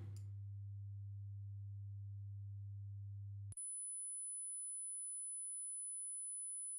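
A steady, pure low test tone plays back at 100 hertz from an Ampex ATR-102 tape recorder, holding constant for about three and a half seconds before cutting to a thin high whine.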